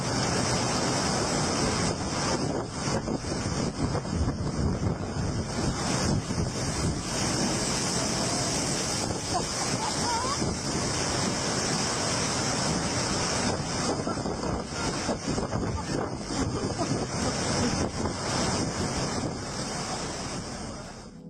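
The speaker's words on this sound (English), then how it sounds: "The weather in the North Sea can be very harsh, with waves as high as 50 feet crashing onto the catwalk." Storm waves pound a North Sea oil platform, with a heavy, continuous roar of surf and wind buffeting the microphone throughout, loud and close with no pauses.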